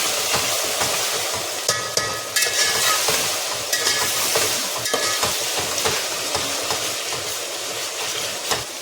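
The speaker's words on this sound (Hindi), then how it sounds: "इसको अच्छे से 1 मिनट तक भून लेंगे" Ginger garlic paste and onions frying in a pan, a continuous loud sizzle with frequent stirring scrapes and clinks of a spatula throughout.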